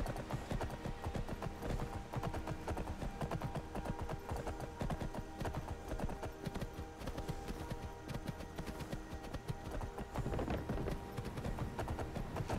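Horses' hooves clopping in the video game Skyrim, a steady continuous run of dense hoofbeats, loud and close, with no voices.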